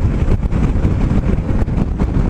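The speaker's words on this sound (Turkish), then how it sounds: "Hava güneşli ama rüzgarlı." Strong wind on a sunny day buffets the microphone in loud, continuous rumbling gusts that fill the whole moment, with no voices heard.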